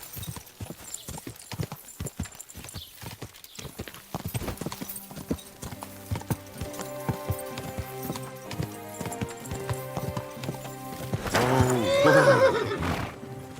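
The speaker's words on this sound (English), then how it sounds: "What's wrong, horsey?" A horse in the video game Kingdom Come Deliverance 2 clip-clops along steadily at close range, then lets out a loud neigh near the end, with faint background sounds and no clear talking.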